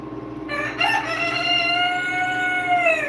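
A rooster crows loudly and close, one long sustained cock-a-doodle-doo with bright harmonics, over a bed of clucking from several chickens on a farm.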